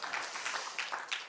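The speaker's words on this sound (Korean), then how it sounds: "우리 박수로 한번 축하드립니다." A Korean church congregation clapping to celebrate a member's birthday at a Friday prayer meeting, a brief faint patter of scattered claps.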